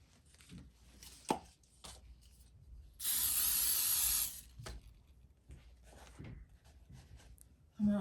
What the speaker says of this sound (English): use some hairspray to hold it down good